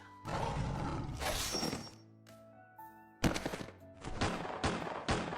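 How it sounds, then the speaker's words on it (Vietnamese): Gunshots fired in quick succession while hunting in a mountain setting, sharp loud blasts with heavy roaring tails, the last burst standing out strongly after a quieter gap, with no voices. "Nổ liên tiếp 3 phát súng"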